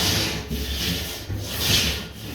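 Steady scraping and rubbing of rubber residue off a hardwood floor, continuous and close, with a few harsher rasping pushes.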